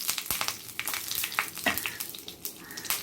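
Mustard seeds, curry leaves and dried chillies sizzle and crackle in hot sesame oil as a tempering for thoothuvalai rasam, with a steady frying hiss and sharp pops close by.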